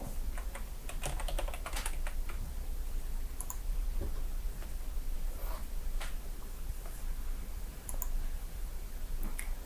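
Fast, steady typing on a computer keyboard while setting a root password in OpenWRT system administration, close and clear, with rapid key clicks and occasional louder taps and no voice over them.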